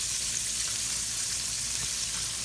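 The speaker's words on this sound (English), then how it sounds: "Chicken is frying." Steady crackling sizzle of chicken frying in hot oil, continuous and close, with no voices.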